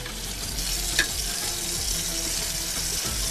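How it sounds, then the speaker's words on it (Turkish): Kashar cheese sizzles steadily in a hot pan, melted side down, a constant crackling hiss with one brief clink partway through. "Eriyen tarafına kaşarımızı koyup şöyle birazcık kızartıyoruz"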